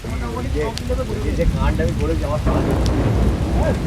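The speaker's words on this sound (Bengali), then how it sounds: "হালকা বৃষ্টি শুরু হয়ে গেছে বাইরে" Rain falls steadily outside with a dense patter and low rumbling, while people talk over it.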